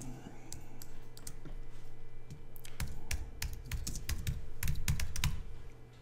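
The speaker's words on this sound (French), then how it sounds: "Et je vais taper le nom du magazine." Typing on a computer keyboard while entering text in InDesign, a steady run of crisp key clicks with denser bursts in the second half, close and alone with a faint low background hum.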